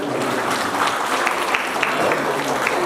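Guests at a wedding clap together in a short, steady burst of applause, with a voice audible beneath the clapping.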